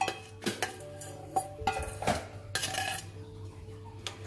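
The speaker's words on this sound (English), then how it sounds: "Now again, give a good mix." A spoon scrapes and clinks against a metal pot of crab curry in irregular strokes, close up, with a soft low hum underneath.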